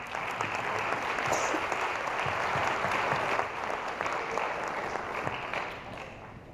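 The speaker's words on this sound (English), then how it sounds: "Let's give a round of applause for all the names." Audience applause at a university gathering welcoming new staff members, a dense, sustained clapping that fills the whole stretch and eases off slightly toward the end.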